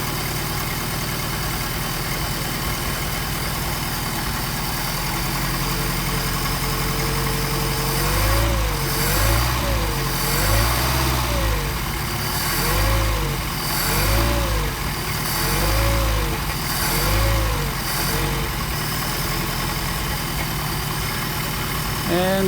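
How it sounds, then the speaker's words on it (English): A car engine fitted with Solex carburetors warms up at a fast idle, a steady close rumble whose pitch rises and falls in a series of light revs through the middle, with faint talk underneath. "So set a fast idle and get it warmed up."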